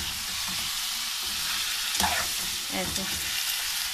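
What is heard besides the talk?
beef for nihari frying in a pot, stirred with a spoon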